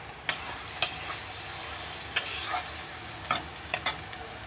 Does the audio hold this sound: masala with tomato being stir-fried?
yes